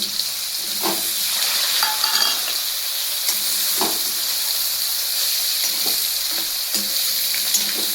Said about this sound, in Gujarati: હવે આપણે આ પનીર નાખી દેવી બધું ઘીમાં